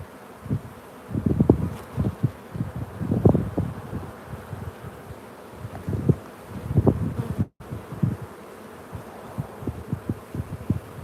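Honeybees fan at the hive in a close, buzzing swarm, the hum swelling and fading in uneven bursts over a faint breezy background.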